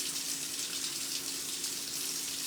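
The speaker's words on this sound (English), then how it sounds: "We're gonna add a little bit of water to this, and we're just gonna mix it in right here." Water pours steadily into a bowl of protein powder and peanut butter powder mix, a continuous soft hiss of running liquid at low level with no talking.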